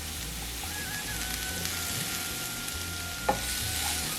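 Beetroot stir-fry cooks in oil in a pan, giving a steady fine sizzle throughout, with a couple of faint scrapes and taps from the stirring utensil near the end.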